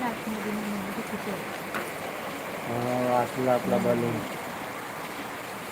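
Steady rain hisses throughout, and a person speaks briefly partway through.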